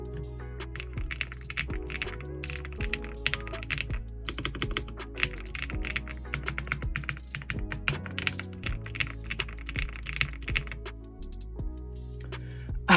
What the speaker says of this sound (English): that definitely fits the description of a creamy keyboard right there